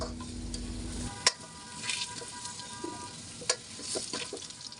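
Potato pieces sizzle in hot oil in a wok, a continuous crackling fry broken by two sharp knocks of a stirring utensil and soft scraping, with no voices.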